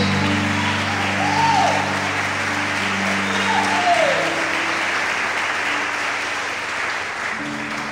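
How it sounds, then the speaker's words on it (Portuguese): Sustained, joyful congregational applause fills a church, with a dense continuous wash of clapping lasting about eight seconds and sustained tonal music sounds underneath. "Vamos aplaudir ao Senhor com bastante alegria."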